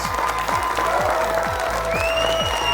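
A studio audience at a televised high school quiz competition applauds the winning team with dense, continuous clapping, and a few sustained tonal notes ring out over it.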